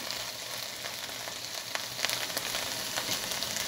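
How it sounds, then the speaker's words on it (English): Peppers fry in oil in a pan at medium heat with a constant close crackling sizzle, scattered sharper pops rising a little louder partway through. "I'm going to get all my peppers evenly distributed in the oil"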